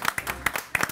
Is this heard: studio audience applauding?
yes